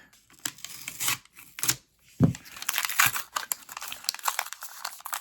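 Crinkling foil wrapper of a 1991 Upper Deck baseball card pack being torn open and handled up close, a run of sharp crackles and rustles with a brief thump, no talk.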